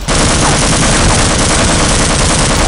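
Rapid, dense automatic gunfire from the video game Half-Life Uplink, played on hard difficulty, a loud continuous burst of machine-gun shots filling the whole moment with no talking.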